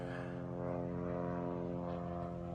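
A propeller-driven aircraft drones steadily overhead, a continuous, fairly distant engine hum with a constant pitch and no talking.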